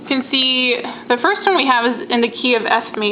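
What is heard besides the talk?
No distinct noise like a dog, phone or traffic.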